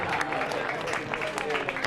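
A studio audience claps after a song performance, a brief burst of moderate applause with a voice talking over it.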